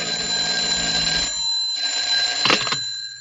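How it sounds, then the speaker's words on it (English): An old-fashioned telephone bell rings loudly and nearby in two long rings separated by a short pause, followed by a brief clatter as the receiver is handled. "I was just putting on my hat and coat when the phone rang."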